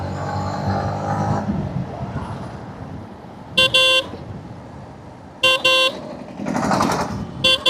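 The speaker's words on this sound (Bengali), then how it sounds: "অনেক দিন পরে কোনো বাইকে আমি একশো উঠালাম" A Yamaha MT-15 motorcycle engine roars steadily at about 100 km/h with wind rush, interrupted by several short, loud horn honks from passing traffic.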